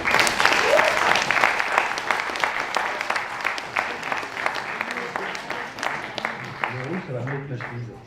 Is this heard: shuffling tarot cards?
no